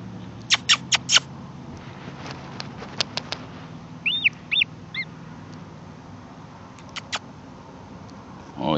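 An orphaned, hungry baby American oystercatcher chick gives sharp, high peeping calls in scattered bursts, close and loud, with quiet pauses and light background noise between.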